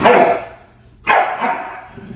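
Dogs bark indoors, two loud close barks about a second apart, each followed by a short fading tail.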